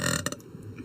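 A girl gives a short, fairly quiet burp, a brief guttural pulse heard from close by with no speech over it.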